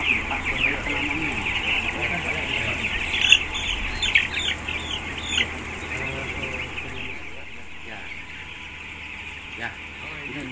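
A flock of broiler chickens in a modern poultry farm house, clucking and chirping as a steady dense chorus, with people talking intermittently over it.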